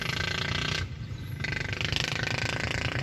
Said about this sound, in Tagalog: kasi medyo marami siyang mga tornilyo. Na kailangan talaga nating matanggal